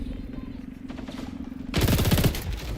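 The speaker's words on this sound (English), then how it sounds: "I am putting a lot of bullets into these clowns" A Vector .45 ACP submachine gun firing in the shooter XDefiant: a rapid, dense automatic burst breaks out in the last second, loud and close, after a quieter stretch with a low steady hum.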